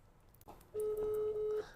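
A single telephone ringback tone sounds on a call, one steady, clear tone lasting just under a second against faint background noise.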